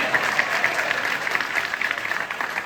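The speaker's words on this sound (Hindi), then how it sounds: "हरी बोल, तालियां बजाइए इनके लिए।" Devotees at a Bhagavad Gita gathering applaud together, a lively burst of rapid hand claps from a nearby crowd, holding steady for a few seconds.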